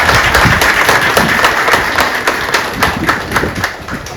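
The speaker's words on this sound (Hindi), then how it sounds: "एक बार जोरदार तालियों से उनका स्वागत करिए।" A crowd at a railway office farewell party claps to welcome the chief guest, dense and loud applause that fades slightly over a few seconds.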